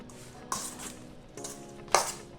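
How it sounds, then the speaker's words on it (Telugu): A lid is lifted off a bowl of salted cabbage being prepared for cabbage Manchurian, giving two brief metallic clinks and scrapes at close range in an otherwise quiet kitchen. "ఇప్పుడు మనం మూత తెరిచేసి"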